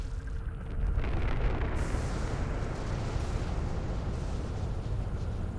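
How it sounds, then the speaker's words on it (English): A canister in Mass Effect 2 is shot and explodes with a loud burst, followed by a long, heavy rumble that stays strong to the end. "I kind of want to shoot out these canisters first, or specifically this canister"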